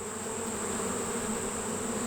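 Honey bees of a Vermont queen's colony hum in the open hive, a dense steady buzz close by that holds level throughout, with no talking.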